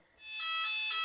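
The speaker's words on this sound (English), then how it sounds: "as that's the fire alarm." A fire alarm sounds during a live football watchalong, a faint high electronic tone that switches on and holds steadily with slight pulsing.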